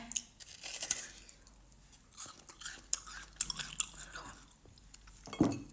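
Crunchy, irregular bites and chewing of frozen watermelon with lemon and honey, close to the microphone and fairly quiet, with a few sharper crunches.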